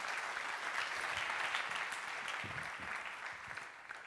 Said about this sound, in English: Give him a warm round of applause, please.